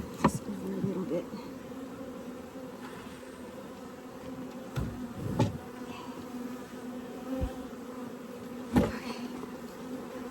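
Honey bees buzz around a Layens swarm trap, a continuous close hum with individual bees droning past, along with occasional thumps and handling knocks and a brief spoken word.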